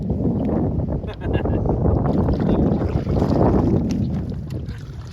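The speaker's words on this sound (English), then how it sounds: "I'm gonna start paddling" Canoe paddling on a lake during a walleye fishing outing, steady broadband swishing of water and wind noise throughout, with faint background sounds and no clear strokes standing out.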